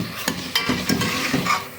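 Garlic-ginger paste sizzles in hot oil in a pot for nihari while a spoon stirs it, with a few scraping knocks against the pan over a continuous frying hiss, close and clear.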